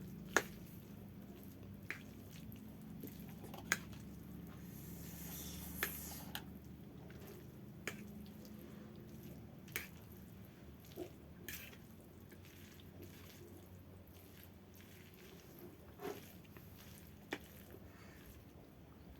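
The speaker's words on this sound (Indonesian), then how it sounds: "Kita aduk dulu." Topokki, Korean rice cakes, are stirred in a pan, giving soft squelching and clicking taps at irregular intervals over a faint background, with no voices.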